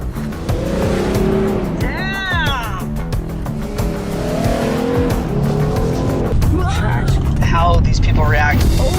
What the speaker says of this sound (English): Today we're driving a Jeep Gladiator. We're at Wipeout Hill, climbing up and down it no problem